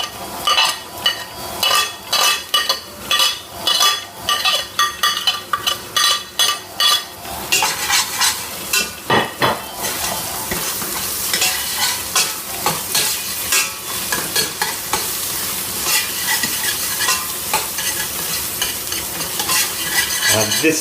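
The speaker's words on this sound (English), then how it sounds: "Onions been cooking for 5 minutes and we're on a high heat. Now I'm going to add a ginger and a garlic into it." Onions, ginger and garlic sizzle loudly in a pan over high heat. A spoon scrapes and stirs in a rapid, regular rhythm at first, then the frying settles into a steady, dense hiss.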